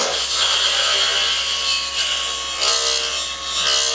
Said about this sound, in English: Carving a nice shape on there.